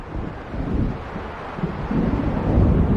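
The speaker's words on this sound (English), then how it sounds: "It seems there's a storm coming." A storm rumbles in Alan Wake Remastered: low, continuous thunder with gusty wind noise swelling toward the end, no distinct crack, heard alone without voices.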